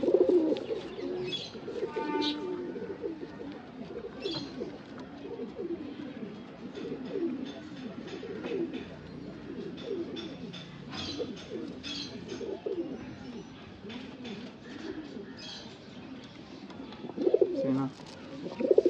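Pigeons coo close by in soft repeated throaty rolls that continue throughout, with faint chirps and other background noise mixed in.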